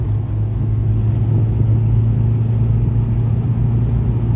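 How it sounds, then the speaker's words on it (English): A car climbs a very steep hill, its engine a steady low rumble heard from inside, with no talk during the climb. "Look, even my car's changing gear."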